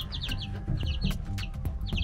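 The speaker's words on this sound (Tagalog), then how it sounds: "ito yung natira ko sa dalawa kong native na manok" Native chickens cluck and chirp close by inside a coop, with repeated short, rhythmic calls over a low rustling background.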